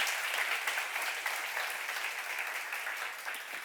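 A church congregation at a Korean seminar on John 14–15 bursts into a short, steady round of applause, dense and even throughout.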